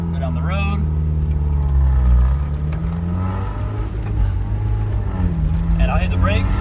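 A Mazda Miata drives down the road with its engine droning steadily and shifting in pitch as it runs, while someone talks over it throughout.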